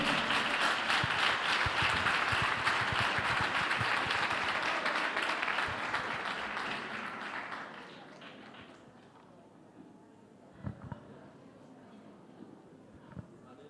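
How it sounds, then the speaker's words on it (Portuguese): A church congregation applauds loudly for about seven seconds, then the clapping fades into quieter room sound with a few scattered knocks, and a voice is faintly present under the applause. "Vamos aplaudir ao Senhor"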